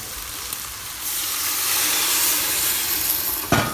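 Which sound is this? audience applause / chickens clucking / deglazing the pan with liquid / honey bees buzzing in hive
deglazing the pan with liquid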